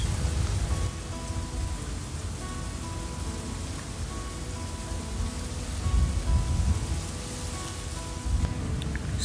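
Strong wind at a riverside fishing spot on the Sipait River in Pekalongan, a loud, steady roaring rush of air with gusts swelling and easing throughout.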